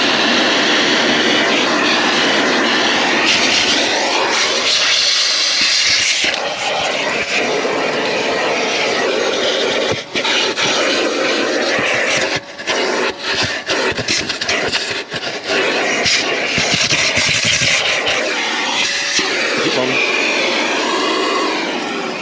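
An Amazon Basics vacuum cleaner used for car detailing runs at strong suction, a loud, steady roaring whine that lasts the whole time with small dips as the nozzle moves.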